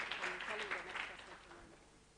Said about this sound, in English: Please let's give her a round of applause as she comes to receive her award.